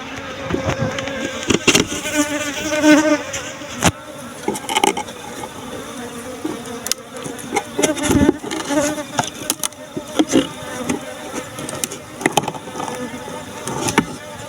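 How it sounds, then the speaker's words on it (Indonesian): A honey bee colony that has just been moved hums and buzzes close by, with individual bees droning past in bursts over a low background, alongside occasional knocks and handling noises. "Tuh koloni lebahnya udah ke sana"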